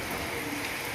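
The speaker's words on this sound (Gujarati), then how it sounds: "અત્યારે ફૂલ વરસાદ આવે છે એકદમ વરસાદ આવે છે" Heavy rain pours at Mount Abu in a steady, dense roar of drops hitting surfaces, loud and close throughout with no voices.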